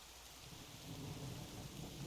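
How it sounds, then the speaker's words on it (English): Rain falls steadily in a Minecraft thunderstorm, a constant faint hiss with a low rumble of thunder swelling midway, no voices. "I love rain."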